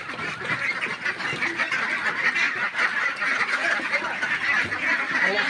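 Ducks on a duck farm, layer ducks being raised for meat, quack and honk together in a dense, continuous flock chorus, loud and close, with no talking.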